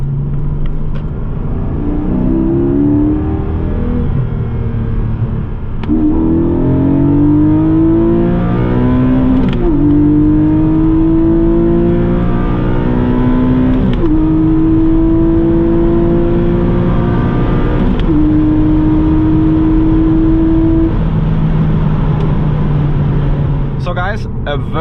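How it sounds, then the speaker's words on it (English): A Porsche 718 GTS 4.0 accelerates hard from 100 to 200 km/h, its engine note climbing loudly through several gears with brief dips at each upshift over a constant road rumble. "So let's now see how fast the GTS goes from 100 to 200."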